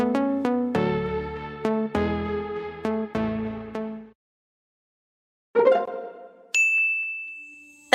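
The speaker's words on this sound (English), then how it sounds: "That's the sound of digital payments going through." A series of bright chime tones sounding digital payment confirmations, ringing one after another and decaying, then a pause, a short scrape, and a sustained electronic tone at the end.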